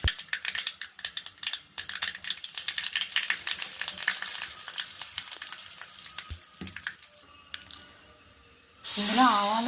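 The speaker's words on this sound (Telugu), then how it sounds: "ఇందులో ఆవాలు, ఇంగువ మాత్రమే పోపు వేసుకుంటామండి" Mustard seeds and asafoetida crackle and sizzle in hot oil in a small tempering pan for a kothimeera pachadi, a dense run of sharp pops that thins out before a loud burst of hissing near the end.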